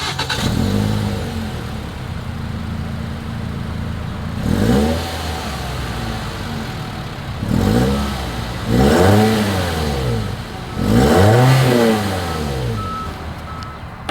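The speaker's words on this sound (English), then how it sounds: "here is that exhaust clip." A 2022 Toyota C-HR engine revs hard several times through the exhaust, each burst rising and falling over a steady idle, close and loud with no talking.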